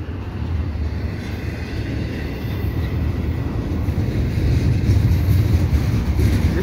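A CPKC eastbound intermodal freight train with distributed power locomotives passes at Dorval in the evening, a loud steady rumble and roar of rolling cars that swells slightly toward the end, with no talk.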